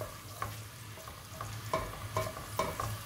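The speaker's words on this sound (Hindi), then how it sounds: "ऑयल गर्म हो चुका है, इसमें डालेंगे हम प्याज" Onions hit hot oil in a pan for a degi chicken pulao, giving a steady close sizzle and frying crackle with a few louder bursts as they are stirred.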